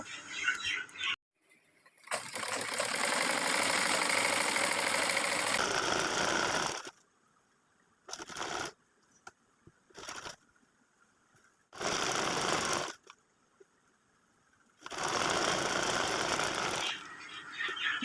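A sewing machine stitches a girl's salwar suit in several bursts: one long run of about four seconds, short quick stitches, then two more runs separated by silences, all close and loud.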